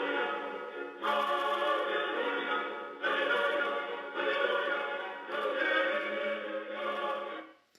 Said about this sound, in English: It's the Hallelujah chorus, right?